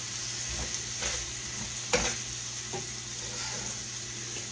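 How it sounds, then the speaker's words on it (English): Spoon stirring a seasoned casserole mixture in a hot pan: soft sizzling under several scraping strokes at an irregular pace, with one sharper clack near the middle, close and fairly quiet. "we're just going to stir that around in here"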